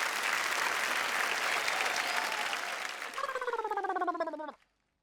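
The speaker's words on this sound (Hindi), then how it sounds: "जरा जोरदार तालियां।" Audience applause at a Hindi comedy stage show, loud dense clapping that turns into rapid rhythmic clapping before stopping abruptly.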